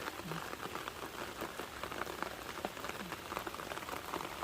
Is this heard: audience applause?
no